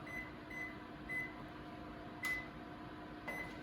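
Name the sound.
oven timer being set, beeping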